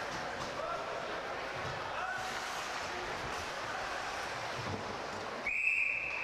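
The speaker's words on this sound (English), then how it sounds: "and the whistle is blown." A referee's whistle sounds at a live hockey game between the Stettler Imperials and Wainwright Rustlers, one sharp shrill blast near the end over steady arena crowd noise.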